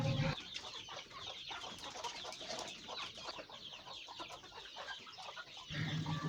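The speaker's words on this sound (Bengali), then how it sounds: "আমরা মাত্রই মুরগিদের খাবার দিতে এসেছি" Domestic village chickens cluck and chatter as they are fed spinach mixed with paddy. The flock sounds close and continuous over a background of outdoor ambience.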